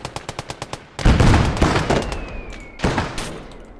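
Machine gun fire in the Motherland war game: a fast string of evenly spaced shots, then heavier overlapping bursts and blasts with a thin whine, loud and close with no voices.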